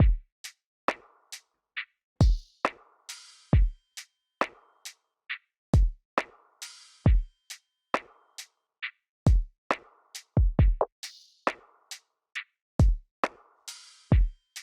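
Lo-fi drum pattern built from samples, with sparse kick and snare hits and crisp hi-hat ticks in a relaxed, slightly loose groove, clean and alone.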